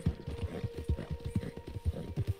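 Horse hooves in Red Dead Redemption 2 clip-clop in a quick, even trot, close and clear, with no voices over them.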